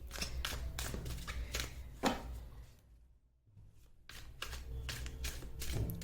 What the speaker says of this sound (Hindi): सो मैं आपके सामने ही कार्ड शफल करूंगी